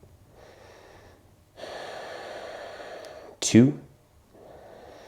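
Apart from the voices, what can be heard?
deep breathing during a yoga stretch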